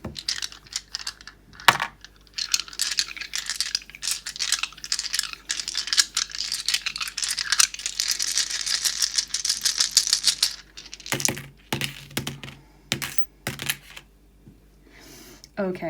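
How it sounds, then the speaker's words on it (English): Seven dice rolled for a tarot and charm reading rattle and clatter in dense, rapid clicking bursts over a hard surface, with a brief pause before further scattered taps and rolls, fairly close and lively. "Okay, we're rolling 7 of these dice for you."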